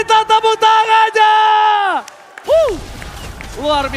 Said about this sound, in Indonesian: EPL Arena minta tepuk tangannya!